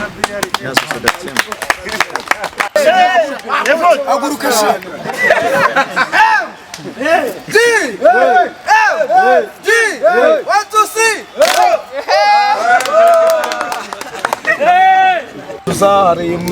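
A crowd of supporters at a Rwandan football club gathering for Ntagipfubusa FC chants and cheers loudly in rhythmic bursts, voices rising and falling together, with a speaker's voice mixed in.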